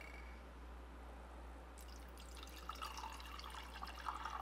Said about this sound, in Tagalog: So, lagyan natin to ng tubig.